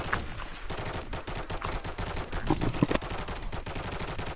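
Rapid bursts of video game gunfire crackle nonstop, dense automatic shots stacked over one another with no break.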